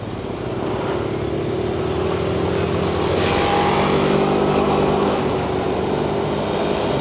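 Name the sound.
street traffic with trucks in Ho Chi Minh City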